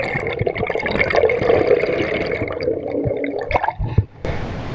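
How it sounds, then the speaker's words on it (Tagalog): Strong underwater current rushing through a rock crevice while spearfishing in the Philippines, a continuous close churning water noise that stays loud throughout, with a sharp knock near the end. "malakas pala yung agos ah, ng tubig sa biyak na ito"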